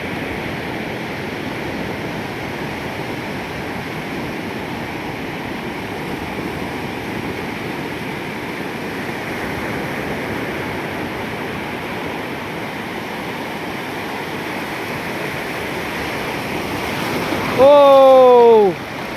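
Sea waves roll in at Digha beach as the high tide rises, making a continuous close roar of surf that stays steady throughout. A voice calls out briefly near the end.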